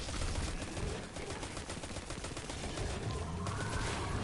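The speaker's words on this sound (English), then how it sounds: "A grenade launcher doesn't really work that well." Weapon fire from a grenade launcher in the video game Destiny 2: Forsaken, heard as a fairly quiet, continuous run of rapid repeated shots with no pause.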